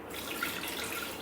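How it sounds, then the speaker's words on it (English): Tap water pours steadily into a Thermomix bowl, a continuous close splashing hiss with no pauses and no speech. "I'm just going to be putting water in here to steam and ferment the dough"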